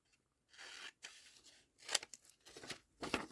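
Scissors trim paper in a few short, quiet snipping and rustling bursts with gaps between, close to the microphone and with no talking.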